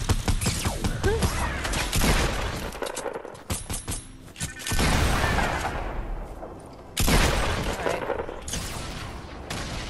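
Explosion blasts in Fortnite during the destruction of the Cube, booming amid heavy gunfire with dense, loud bursts and a couple of sharp sudden peaks over ten seconds.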